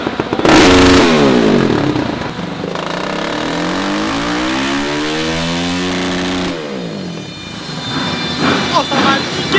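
An engine fitted with a cheap Lidl aftermarket exhaust, chicane removed, revs hard and loud up close, with rising and falling sweeps through several throttle blips, then drops back to a rough idle.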